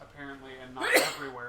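A single sharp sneeze bursts out in the middle of someone talking, close and fairly loud.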